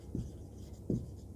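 Chalk or marker strokes on a classroom board during a Class 9 geometry lesson on circles, two short scratchy bursts of writing separated by a pause, close and fairly quiet with no talking.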